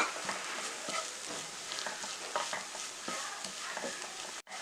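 A bread snack masala with coriander leaves is stirred in a pan, giving a busy run of soft scraping and light sizzling with irregular spatula strokes, close by and without talk, ending in a brief dropout.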